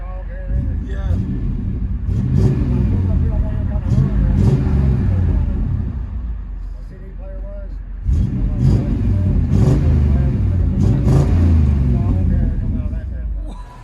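A 1998 Chevy Tahoe two-door coupe with a 5.7L V8 and true dual Magnaflow exhaust revs from inside the cabin, with two sustained swells of deep engine rumble while people talk over it.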